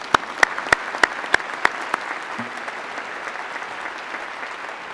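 A few scattered claps at a Department of Medicine graduation ceremony, sharp and distinct in the first two seconds before fading into quiet room noise.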